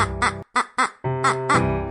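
A duck quacks repeatedly in short nasal bursts, about six calls in quick succession, close and fairly loud with brief gaps between them.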